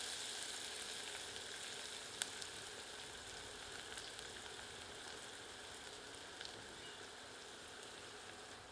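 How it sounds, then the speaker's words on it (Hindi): Onions frying in a pan with black peppercorns, cloves and cumin over medium heat give a steady, quiet sizzle with faint scattered crackles throughout, and no voices. "आंच को मध्यम कर देते हैं और इसे अच्छी तरह भूनते हैं।"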